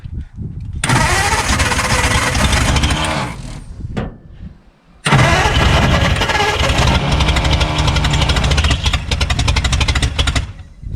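A 1952 Ford F1 with a flathead engine, a forgotten field find, cranks and catches into a loud rough run, cuts out briefly, then restarts and keeps running close by.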